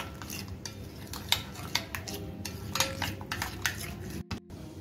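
Yogurt, salt and spices whisked together in a bowl for a Katla fish roast, giving close, steady clinking and scraping of a utensil against the bowl in a quick repeated rhythm.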